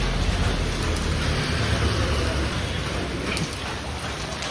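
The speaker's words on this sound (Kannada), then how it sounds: "ಮಳೆ ಪೂರ ದಾಶಿ ಬರ್ಲತ್ತದ" Heavy rain pours steadily and loudly outside a village shop during a downpour, a dense continuous hiss that stays close and even throughout.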